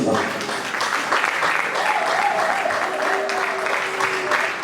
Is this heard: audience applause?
yes